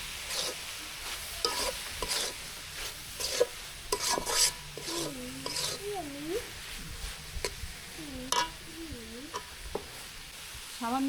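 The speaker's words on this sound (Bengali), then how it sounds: "ভালো করে নেড়ে চেড়ে দিতে হবে।" Carrot halwa with ghee stirred in a pan, giving intermittent rasping scrapes and soft sizzling close by, with a voice audible in the background partway through.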